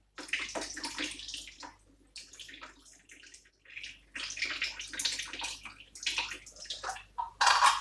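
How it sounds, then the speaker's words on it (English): Liquid drains from cooked kontomire greens for a vegan stew, water pouring and splashing into a kitchen sink in bursts with brief pauses, fairly close and moderately loud, with no talking. "Drain out the liquid."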